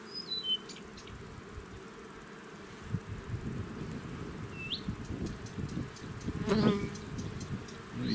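Honey bees being moved from one hive into another give off a steady, close droning buzz, with a few faint bird chirps in the background.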